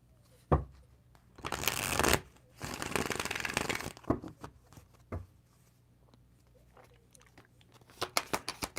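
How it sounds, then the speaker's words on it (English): Tarot cards being shuffled nearby: two long riffling bursts followed by several sharp taps and quick flicks as the deck is squared. "Gonna give these a shuffle."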